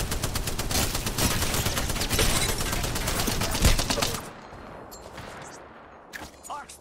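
Gunfire from a fight inside the ring in the video game Apex Legends, a dense loud stream of rapid automatic shots for about four seconds, then quieter scattered shots and effects.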